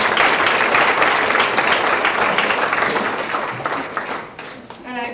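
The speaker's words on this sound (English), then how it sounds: "Carl, round of applause" Banquet audience at a basketball team event breaking into applause, a dense wash of clapping that slowly tapers off, with a voice starting to speak just as it ends.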